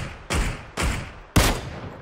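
Three loud, close gunshots ring out in PUBG, spaced unevenly with booming reverberant tails that fade between each shot, the last the strongest.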